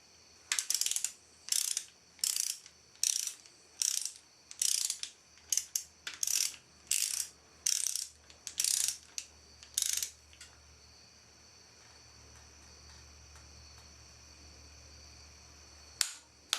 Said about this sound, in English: Now we'll torque them down to 45 foot-pounds.